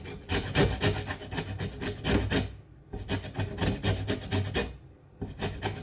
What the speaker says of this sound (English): the first thing I will be doing is to get some amount of lemon zest